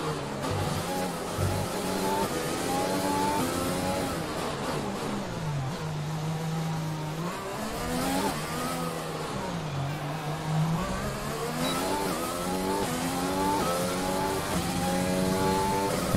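An F1 race car in the game F1 2020 heads out onto the track, its high-pitched engine rising and falling through gear changes, loud and continuous, with a voice talking faintly underneath.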